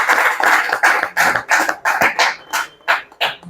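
Audience applause welcoming guests at a live event, with dense clapping in rhythmic surges, fairly loud and close, continuing steadily.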